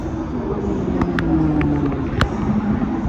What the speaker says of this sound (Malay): Dekat belakang tempat aku menunggu ni boleh nampak kapal terbang tengah nak naik atas.